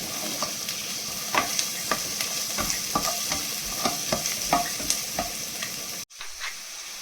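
Onions softening in a pan for white sauce pasta, a continuous sizzle broken by repeated scraping stirs of a spoon against the pan, close and alone, ending abruptly near the end.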